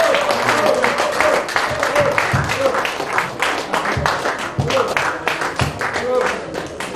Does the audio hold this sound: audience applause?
yes